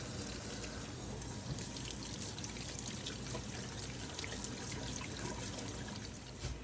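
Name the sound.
water pouring while washing big pink tomatoes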